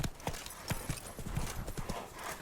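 Geralt's horse Roach clip-clops along in The Witcher 3: Wild Hunt, a quick, close, rhythmic trot of hooves with a faint snort.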